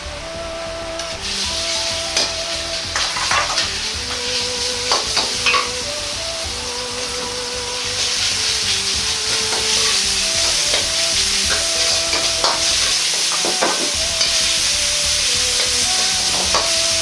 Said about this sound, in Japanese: 鍋に大さじ1の油を入れひき肉を炒めます